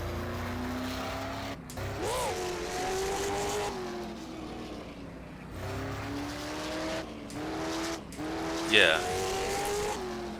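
Street stock race car engine from an rFactor 2 game mod roaring steadily on an asphalt oval, with revs rising and falling through the corners and a brief tire squeal, while someone talks over it.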